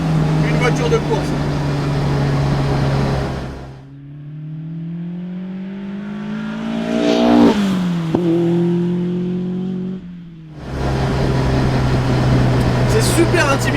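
Lotus Exige S1 sports car engine revving on the move, loud close engine drone that drops away, then a quieter rising and falling rev sweep before the full roar returns, with talk over parts of it.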